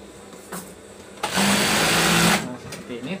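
A sewing machine stitches a duvet cover in a short, loud, steady burst of rapid mechanical whirring of about a second, with quieter handling sounds before and after.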